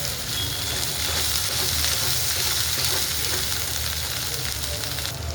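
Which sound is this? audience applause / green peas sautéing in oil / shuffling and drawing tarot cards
green peas sautéing in oil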